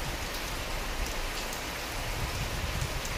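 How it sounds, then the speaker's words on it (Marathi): Heavy rain beats down in a steady, dense patter on surfaces nearby, a continuous moderate roar of drops with scattered sharper hits and no voices. "बघा कसला आवाज येतो ह्या पावसाचा"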